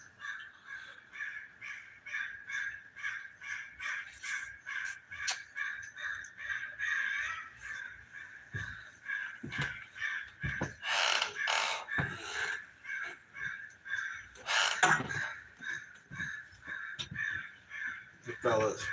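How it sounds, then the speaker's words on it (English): Crows or ravens caw repeatedly in a loud, irregular chorus beside a California delta fishing spot, while someone talks throughout. "Hear them crows? Or ravens, whatever the hell they are, making a bunch of noise."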